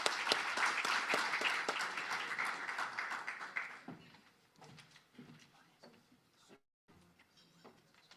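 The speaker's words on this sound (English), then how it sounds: "Let's welcome her with a big round of applause" A round of applause from the audience at the SADC Financial Inclusion Forum rings out strongly for about four seconds, then thins to scattered claps and quiet room shuffles before a brief silence.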